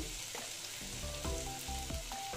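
A spinach and egg mixture with cumin powder fries slowly in a pan, giving a steady close sizzle with a few soft stirring scrapes and knocks.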